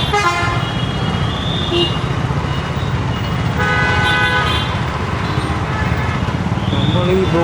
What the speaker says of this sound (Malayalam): ആരാണെന്തോ ഇങ്ങനെ വന്ന് ഹോണടിക്കണം.